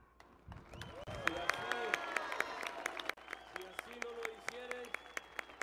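Applause at the swearing-in ceremony of the governor of the State of Chihuahua: a large crowd claps continuously, with voices and cheering mixed in, and the sound dips briefly midway before carrying on.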